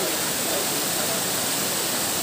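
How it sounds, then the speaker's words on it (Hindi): A waterfall roars as a steady, loud, broadband rush of falling water, continuous and unchanging, with no voices over it. "देखो झरना"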